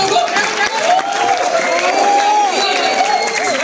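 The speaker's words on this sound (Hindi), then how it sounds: "ठोको ताली। ठोको।" A college comedy-show audience at NIT Calicut claps and cheers together: loud, close crowd noise with overlapping voices whooping and shouting over a bed of applause.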